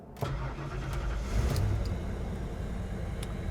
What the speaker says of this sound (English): I'm just going to simply turn the key where I'm not going to hit any gas pedals